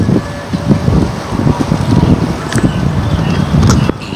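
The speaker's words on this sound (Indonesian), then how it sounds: "Anginnya berhenti dulu." Gusty wind blows across an outdoor microphone, roaring and buffeting steadily near the mic with low rumbling bursts throughout.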